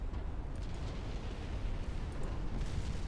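A flash fire explosion tears through a warship in Ultimate Admiral: Dreadnoughts, a loud, sustained low rumbling roar with scattered crackling bursts and no voices.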